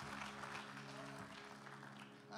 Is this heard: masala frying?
no